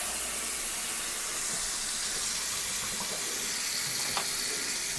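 Cold tap water runs steadily into a sink to cool a one-gallon batch of pilsner wort, a continuous close hiss and splash with no pauses and no voices.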